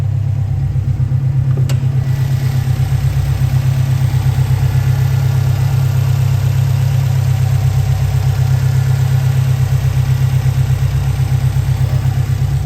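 A 2004 Subaru Impreza WRX STI engine idles steadily and smoothly up close, a constant low rumble with no voices.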